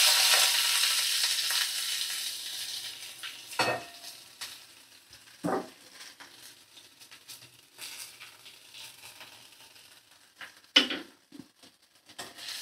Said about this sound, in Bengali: পেঁয়াজ দিয়ে নাড়াচাড়া করে নিচ্ছি